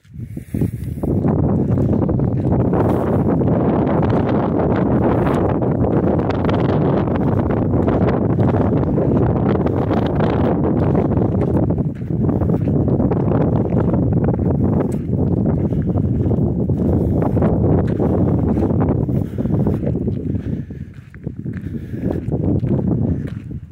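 Loud, low rumbling wind buffets the microphone almost continuously near Chimney Rock, just inside a park's western entrance, with gusty swells and a brief dip near the end.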